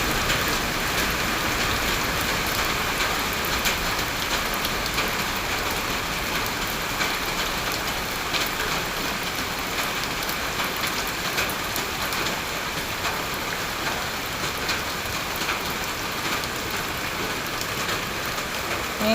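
Steady rain pours down, a dense continuous hiss of drops hitting surfaces, even and unbroken for the whole stretch with no talking.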